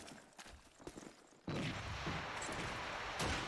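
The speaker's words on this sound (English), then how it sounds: "bullets flying right near RPZ" Gunfire rings out in an esports first-person shooter match, a few scattered sharp shots giving way to a sudden, sustained burst of rapid fire that holds loud to the end.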